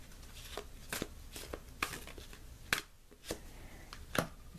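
A deck of tarot cards is shuffled near and softly, a string of crisp slapping and riffling bursts at uneven intervals over a quiet background.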